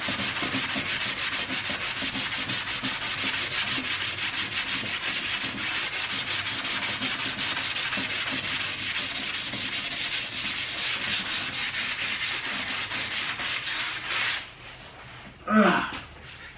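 Sandpaper rubbed by hand over a car dashboard being prepared for flocking, a continuous close scratchy rasp of rapid back-and-forth strokes lasting about fourteen seconds before stopping, followed by a brief breath or sniff.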